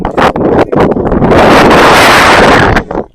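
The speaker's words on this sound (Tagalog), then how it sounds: "Oh, ang hangin." Loud, steady wind buffeting the microphone, a continuous roaring rush with brief gusty dips, close and dominant with no voices.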